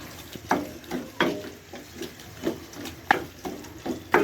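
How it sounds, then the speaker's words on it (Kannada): Salted, smashed tomatoes fry in a pan for a baby corn gravy, a soft sizzle broken by regular scraping stir strokes roughly every half second, close and moderately loud with no voice. "ಟೊಮೊಟೊ ಫ್ರೈ ಆಗೋವರೆಗೂ ಚೆನ್ನಾಗಿ ಈ ಥರ ಮಾಡ್ತಾನೆ ಇರಿ."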